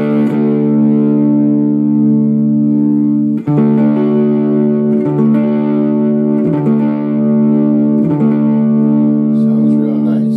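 Loud, sustained distorted electric guitar chords through a 150-watt Carvin and Gorilla hybrid amp, struck a few times, each ringing out with a wash of amp reverb.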